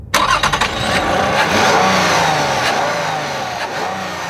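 A Toyota Avalon's 3.5-litre V6 engine revs hard and close, a loud sustained roar that rises and holds steady with no talking.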